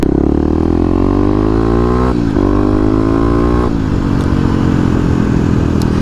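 A 2018 Kawasaki KLX250 dual-sport motorcycle accelerates hard, its engine revving up through rising pitch sweeps with brief drops at gear changes, loud and close with no talking.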